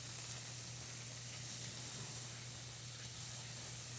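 Bacon and leeks sizzle steadily in rendered bacon fat over lowish heat, a soft, even frying hiss with no voices over it.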